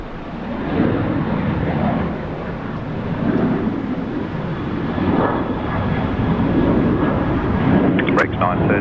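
Airliner landing at Brisbane International Airport, a loud sustained jet roar with broad rushing noise and wind, swelling slightly and holding steady before a brief clatter near the end.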